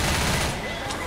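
Rapid gunfire in the zombie shooter Left 4 Dead bursts in a dense, noisy volley lasting about a second.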